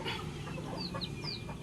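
Large Belgian Leggy chickens kept as breeding stock cluck softly and chirp in a brief, faint burst.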